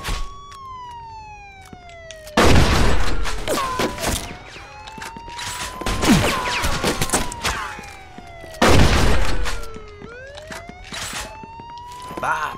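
Gunfire from the Mafia II video game: several sharp shot bursts cut through a wailing police siren that keeps rising and falling, with loud impacts coming in clusters and game voices shouting in between.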